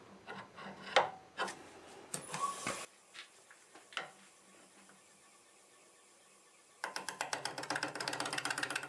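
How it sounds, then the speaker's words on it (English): A hogging tool cuts a rugged sweet gum bowl on a wood lathe. Bursts of scraping and rasping come in uneven strokes, then a quieter stretch, and then a steady rapid chattering cut close by. "So that calls for my hogging tool. So I'll just be cutting this."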